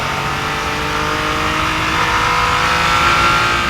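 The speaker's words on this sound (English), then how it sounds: "the sound of that V6 is just okay" Nissan GT-R Nismo V6 engine under steady load, a loud, continuous drone heard from inside the car that builds slightly toward the end, with no talking.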